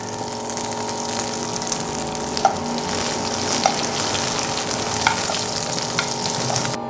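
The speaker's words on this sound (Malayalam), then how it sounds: "കടുക് നന്നായിട്ട് പൊട്ടി വന്നിട്ടുണ്ട്." Mustard seeds crackling in hot oil with dried red chillies and curry leaves for raw mango kichadi: a steady close sizzle with a few sharp pops standing out at intervals.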